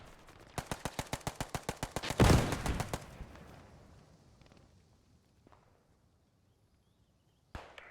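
Rapid string of sharp cracks and pops from a burning Panther tank's ammunition cooking off in the World War II shooter Post Scriptum, about a dozen bursts in quick rhythm, then a fading rumble and a lone late crack.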